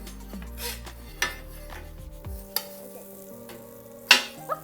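Kids cook rainbow grilled cheese in a pan, with scraping spatula and pan clatter over a faint sizzle and a couple of sharp clanks as the sandwich is flipped.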